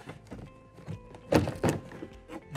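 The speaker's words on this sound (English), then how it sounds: "to release the clips at the upper end of the door panel" Plastic door panel clips on a Chevy SSR popping loose as the panel is lifted and wiggled, a few dull thunks and clicks close up in a quiet garage.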